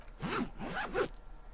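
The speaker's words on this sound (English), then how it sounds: "the lieutenant pulls down the zipper of his orange" A jacket zipper pulled down in the video game Disco Elysium: three quick rasping zips in a row, close and crisp, then quiet.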